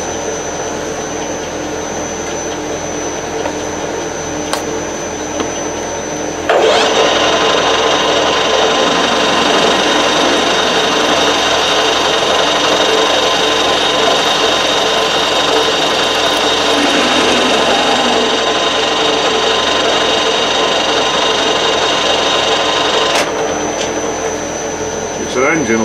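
A power drill bores straight through metal on a 1954 Chevrolet while fitting piston tail lights, a loud steady whine running for about sixteen seconds over a continually idling engine, with quieter clicks before and after.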